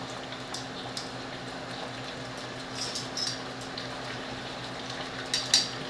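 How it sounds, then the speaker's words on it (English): Pork browning in a pot for stew, a faint, steady low sizzle with occasional soft crackles and pops near the end. "while we're browning the meat"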